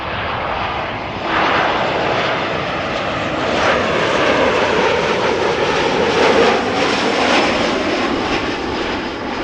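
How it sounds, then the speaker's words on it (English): TUI Boeing 737 MAX 8 landing on runway 06 (Kaagbaan) at Amsterdam Schiphol, a loud continuous jet engine roar that swells slightly as the aircraft passes. "Where this TUI 737 MAX 8 is touching down."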